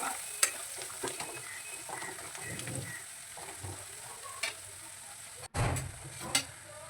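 Chili flakes with coriander and cumin powder being stirred in hot oil in a pan, a quiet steady sizzle with soft scraping strokes, a sharp clack midway and a brief louder burst near the end.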